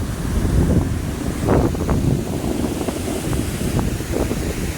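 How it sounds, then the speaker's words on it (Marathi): A swollen monsoon waterfall gives a deep, continuous low roar, close and loud, buffeted by gusts of wind against the microphone, with no talking. "कसं आवाज बघा किती धबधबधबधबा आवाज आले"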